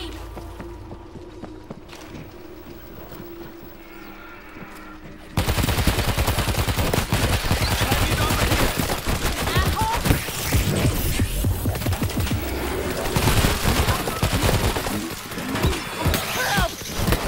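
Dense, continuous gunfire from a World War Z zombie shooter, with rapid machine-gun bursts and layered shots after a quieter opening. The firing stays loud and close throughout, with game voices faintly mixed in.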